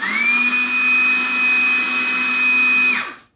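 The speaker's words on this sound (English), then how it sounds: "Hitachi mini blower, RB18 DSL, with a modification." A modified Hitachi RB18DSL cordless mini blower run as an improvised vacuum, a loud steady whine that spins up quickly, holds an even pitch for about three seconds, then winds down abruptly.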